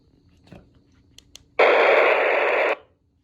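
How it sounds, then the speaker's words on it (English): After a few faint clicks, a loud burst of harsh radio hiss and distorted noise holds for about a second, then cuts off abruptly: an AM signal received in FM mode on a CB radio. "this is what AM sounds like when you receive an AM signal in FM mode"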